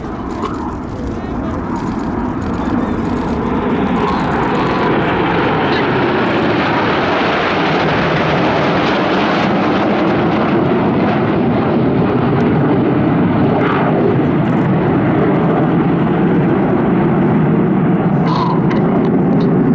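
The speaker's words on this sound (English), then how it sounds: "Reds 8 and 9 with the blue and red smoke on now, rolling around the other 7 aircraft." Royal Air Force Red Arrows jets roar continuously overhead during an aerobatic display at Athens Flying Week 2017, a loud, sustained engine rush swelling and fading as the formation passes, with a commentator talking over it.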